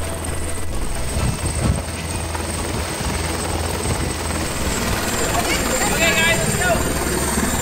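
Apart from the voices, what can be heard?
helicopter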